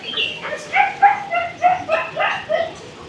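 Dogs in a kennel play area bark and yip in a rapid, uneven series of short, mid-pitched calls at moderate distance.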